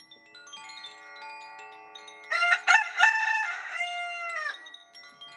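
A rooster crows once near the middle, a loud drawn-out cock-a-doodle-doo rising from a quiet background with a steady ringing chime tone running underneath throughout.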